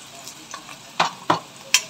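Onion and green chillies stir-frying in a pan for a cabbage masala, a soft background sizzle broken by three short scraping stirs of the spatula, close and fairly crisp.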